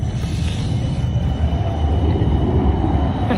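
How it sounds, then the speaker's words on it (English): An Amsterdam tram passing close by on a city street, a loud, steady rail rumble with wheel and track noise that holds throughout. "Trams always win."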